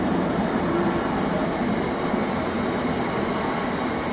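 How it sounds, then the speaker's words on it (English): Class 66 locomotive 66788 hauls an intermodal freight train through Derby Road station on platform 1, a loud, steady rumbling roar with constant engine drone and rolling wagon noise, close and unbroken. "now coming through platform 1 is 66788 locomotion 15, hauling its intermodal through the station."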